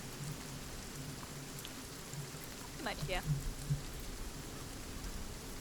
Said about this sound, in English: This rain is making my game die.